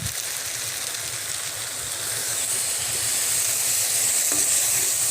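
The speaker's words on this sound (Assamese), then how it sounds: "ইয়াত এতিয়া মই পানী এড কৰিম" Water poured into a pan of frying purslane greens sets off a loud, rushing sizzle and hiss of steam that swells and stays strong, close and continuous with bubbling underneath.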